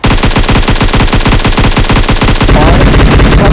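Sustained machine gun fire in the mobile battle royale game PUBG Mobile, a loud, rapid, steady burst of shots running the full length without pause, close and dominant with no talk over it.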